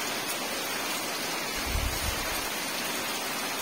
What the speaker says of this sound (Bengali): বন্ধুরা এদিকে ছাদের জল পড়ছে